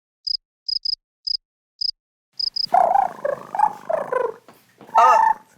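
A cricket gives seven sharp, high chirps, some in quick pairs, spaced out against silence. Loud warbling, gobble-like vocal sounds follow and take over the second half.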